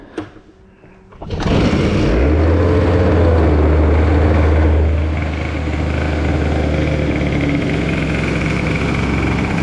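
A Peugeot 103 moped with a modified carburettor, tuned as a T6 65, fires up after a quiet moment and settles into a loud, steady idle while warming up, with a buzzing two-stroke drone that continues to the end.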